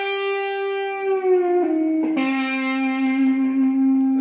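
A single distorted electric guitar note rings out and bends upward in pitch, sustaining clearly with rich overtones before settling on the new pitch.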